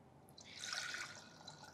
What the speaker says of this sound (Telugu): దీంట్లో కొన్ని వాటర్ వేసుకోండి